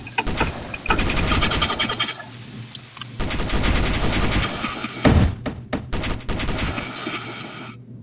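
Turret gunfire from 230 millimeter guns in the space combat game Space Engineers, loud rapid volleys of shots with heavy thuds and bursts repeating throughout, crowding together into near-continuous barrages.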